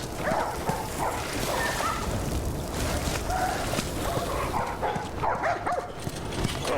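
A puppy whimpers and yips amid the busy ambient noise of a crowded street scene in The Last of Us, faint short cries repeating over a continuous background din.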